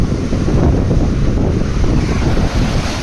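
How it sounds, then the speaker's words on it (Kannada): Ocean surf rolls steadily at Butterfly Beach in Goa, a loud, continuous wash of waves mixed with gusty wind buffeting the microphone, with no voices. "ಅದಕ್ಕೆ ವೇವ್ ಜಾಸ್ತಿ ಆಯ್ತು ಗೈಸ್"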